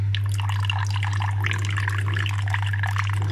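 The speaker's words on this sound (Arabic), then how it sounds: "حط خل،" Vinegar trickles and drips into a tahini salad dressing, a light liquid pour that runs steadily for a few seconds over a low constant hum.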